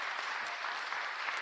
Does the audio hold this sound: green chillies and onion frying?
no